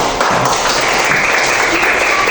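Classroom clapping for a student group presentation during a teaching performance assessment, a steady dense patter of hands throughout, fairly loud and close, with no talk.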